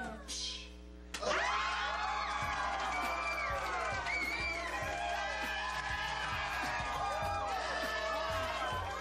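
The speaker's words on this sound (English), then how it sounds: "The crowd goes absolutely wild" A crowd bursts into loud, wild cheering and whooping after a singing performance, sustained and close with excited shouts.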